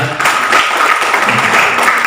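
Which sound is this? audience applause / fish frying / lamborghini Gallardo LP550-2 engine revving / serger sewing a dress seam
audience applause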